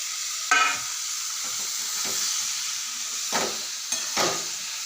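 Cauliflower and potato frying with spices in a pan for a Bengali fish curry: a steady sizzle broken by a few scraping stirs of a spatula, close and fairly loud, with no talking.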